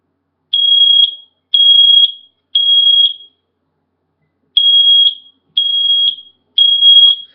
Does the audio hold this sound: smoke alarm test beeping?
yes